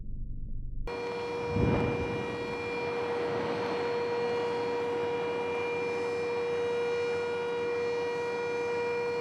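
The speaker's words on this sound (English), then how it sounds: "the siren is sounded to warn of the impending blasts" A warning siren sounds before blasting at a quarry, a sustained steady wail with a strong tonal hum that starts abruptly after a short low rumble and holds at even loudness throughout, loud and alone.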